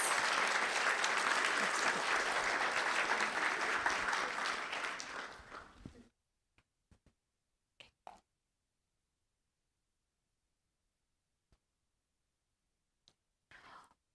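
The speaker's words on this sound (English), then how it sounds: "Let's give a round of applause to our Kendall Knights." Applause from a school board meeting audience for Kendall Knights students: dense, loud clapping for about six seconds that tapers off, followed by near silence with a few scattered claps and small noises.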